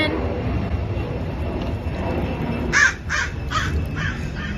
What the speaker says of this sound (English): Planes taking off, crows going over